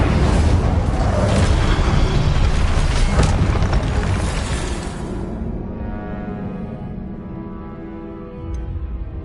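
Heavy booming spell blasts from the Hogwarts Legacy video game roll out loudly at first, then fade into a lingering low rumble with a short crackle near the end.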